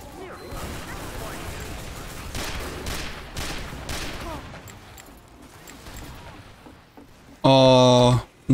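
Gunfire in Team Fortress 2 during a sniper fight near the enemy spawn: a dense run of shots and impacts over steady game noise, ending in a loud, sharp burst.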